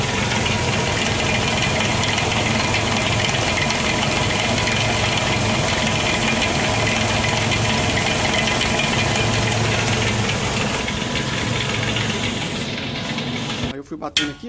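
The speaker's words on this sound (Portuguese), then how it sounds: "Ó, liguei o carro, engatei primeiro." A Ford Del Rey engine runs steadily in first gear with a broken CV joint, giving a dense, continuous rumble with knocking and rattling vibration before it cuts off abruptly near the end.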